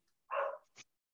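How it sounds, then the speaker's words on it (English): A single loud bark from a dog two rooms away, followed by a shorter, fainter second yelp, with no talk over it. "if you can hear barking, that's my dog."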